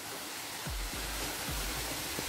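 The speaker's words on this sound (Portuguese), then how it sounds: "E aqui a cachoeira." Waterfall deep in a gorge at Serra do Cipó in Santana do Riacho, Minas Gerais, a drop of about 7 metres carrying very little water, heard as a steady broadband rush with occasional low thumps from wind on the microphone.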